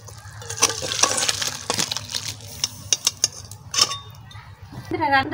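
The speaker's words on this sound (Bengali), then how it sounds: "বন্ধুরা টক রান্না করা হয়ে গেছে, এবারে ঢালে দিচ্ছি।" Cooked sour fish curry being poured from a pot into a serving dish, with scattered metallic clinks and scrapes of pot and utensil against the dish over a low steady background hum.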